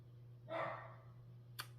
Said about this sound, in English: my dog stops barking